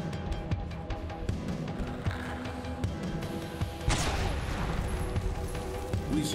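Rapid gunfire from the video game Huntdown pops in quick, repeated bursts over a pulsing music track, with a heavier crash or explosion partway through and faint game noise throughout.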